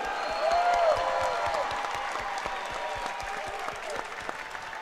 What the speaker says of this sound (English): I want a big round of applause for both these young men